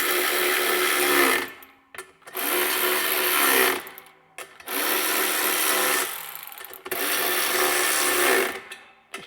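Bolts being tightened on a Detroit 750mm industrial wall fan, heard as four bursts of rattling power-tool driving, each a couple of seconds long with brief silent pauses between, close and fairly loud.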